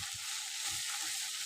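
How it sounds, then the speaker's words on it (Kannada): Okra frying in oil over a medium flame gives a steady, close hiss and crackle of sizzling, with a few soft low stirring knocks underneath. "ಬೆಂಡೆಕಾಯಿನ ಹಾಕ್ಕೊಂಡು ಒಂದು 8-10 ನಿಮಿಷ ಮೀಡಿಯಂ ಫ್ಲೇಮ್ನಲ್ಲಿ ಫ್ರೈ ಮಾಡ್ಕೋಬೇಕು"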